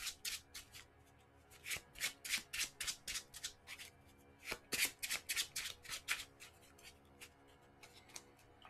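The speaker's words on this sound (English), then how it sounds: "And then we'll give that a final shuffle." Arkham Horror LCG cards being riffle-shuffled close up, a rapid series of crisp flutters and snaps in two bursts with a brief pause between.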